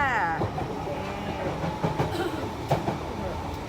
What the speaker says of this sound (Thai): ตอนนี้ในรถไฟจ้า